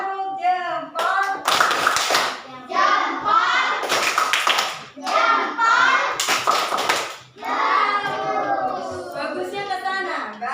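Schoolchildren in an Indonesian classroom do a rhythmic thumb-clap routine, bursts of loud group clapping alternating with chanting and a teacher's voice.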